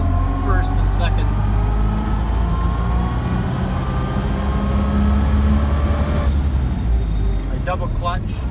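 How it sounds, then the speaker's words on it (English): A 1928 Ford Model A drives along with its straight-cut gears whining in first and second, a steady engine drone and rising gear whine running throughout, with faint speech near the end. "Really hear the straight cut gears in first and second."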